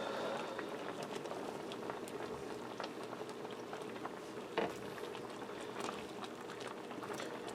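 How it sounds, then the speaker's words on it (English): Pork chops simmer in a creamy mushroom sauce over medium-low heat, giving a steady, soft bubbling and popping that carries on evenly throughout. "I'm going to allow this to simmer for 5 to 10 minutes until I feel those chops are cooked through"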